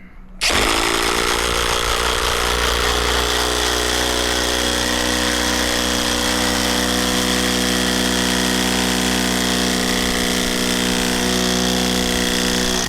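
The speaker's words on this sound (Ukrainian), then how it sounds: "Як бачимо, Дніпрем повністю заховав різьбу гвинта і далі йти не хоче" A DNIPRO-M DTD-201BC cordless impact driver drives a screw into a tree stump, producing a loud, steady mechanical whirr with a hammering buzz that runs unbroken for about twelve seconds, with no voices.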